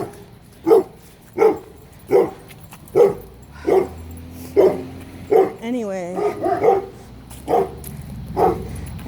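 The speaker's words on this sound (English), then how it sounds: "Fucking dogs." Dogs bark in a steady series of loud, evenly spaced woofs nearby, about a dozen in a row, while someone talks over them.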